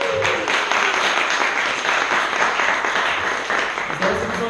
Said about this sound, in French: Est-ce qu'on peut les applaudir?